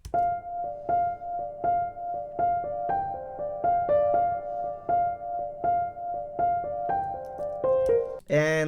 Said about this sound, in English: Alright guys, so I got this piano loaded up.